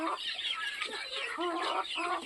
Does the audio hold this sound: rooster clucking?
yes